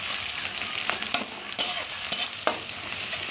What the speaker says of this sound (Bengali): এখন পেঁয়াজটাকে একটু তেলেতে নেড়ে নিচ্ছি